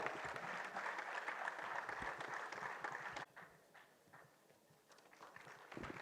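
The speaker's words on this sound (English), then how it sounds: "Please give a huge round of applause for ma'am." An audience at a medical college annual function applauds a professor, fairly quiet and distant clapping that drops in level midway, then swells again near the end.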